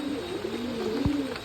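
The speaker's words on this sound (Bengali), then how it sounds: "বৃষ্টি পড়ে বৃষ্টি কমে গেল, তাও পায়রা উড়ছে" Pigeons coo softly in a low, steady murmur while flying through rain, with a brief thump near the end over constant background noise.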